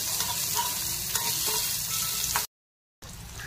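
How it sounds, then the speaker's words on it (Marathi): Paneer with red masala roasting in ghee hisses in a pan with a loud, continuous sizzle and repeated stirring scrapes, then cuts to sudden silence before the frying resumes. "तुपामध्ये भाजून घ्यायचं आहे"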